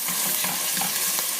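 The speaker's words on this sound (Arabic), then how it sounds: "نقلب الصلصة كده مع البصل والفلفل والزيت علشان تستوي" Sauce with onion, pepper and oil being stirred in a hot pan for spaghetti, giving a steady close sizzle with soft scraping strokes of the spoon throughout, and no talking.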